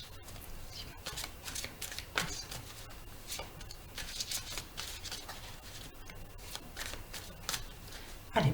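Tarot cards are shuffled and cut close up, with repeated crisp riffling bursts and soft card slaps in an uneven rhythm over a quiet room.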